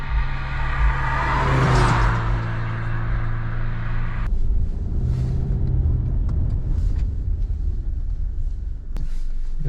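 A turbocharged Subaru Forester, 1.8 or 2.0 turbo, accelerating hard on a quarter-mile run, its loud droning engine rising through the revs, then a shift into a steadier rumble with road and wind noise filling the cabin.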